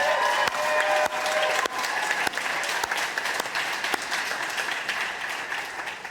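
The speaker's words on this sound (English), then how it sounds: "It's just a quick round of applause for all the Fair voters here." Audience applause at an evening awards event, a dense sustained round of clapping from a full room, loud and steady across the whole stretch with a few sharper claps standing out, no talking over it.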